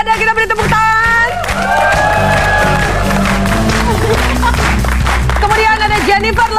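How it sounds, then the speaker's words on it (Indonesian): A studio audience on an Indonesian TV show claps and cheers for Chef Harada, a loud sustained burst of applause and whoops from a crowd while a voice talks over it. "Chef Harada, kita beri tepuk tangan."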